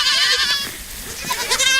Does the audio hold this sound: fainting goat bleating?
yes